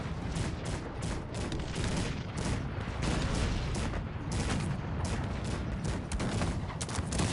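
Cannon exchange of fire in the real-time strategy game Cossacks 3 during a one-on-one battle: a dense, continuous barrage of booming shots and crackling volleys, steady and loud throughout with no talk.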